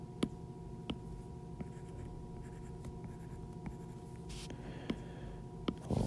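Pen strokes of someone hand-drawing a neuron diagram on paper, with sharp scratchy strokes and taps spread through the clip over a steady low room hum, close and fairly quiet.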